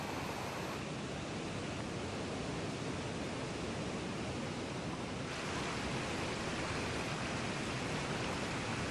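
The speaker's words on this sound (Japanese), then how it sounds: "増水した水が作りかけの水路に流れ込んできます。" A dense, continuous roar of rushing water, broad and unbroken: the swollen Kunar River in spring snowmelt flood surging close by into a construction site's unfinished canal.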